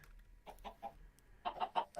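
Minecraft chickens in a farm coop cluck in short, quiet bursts, a few soft calls followed by a louder cluster of rapid clucks near the end.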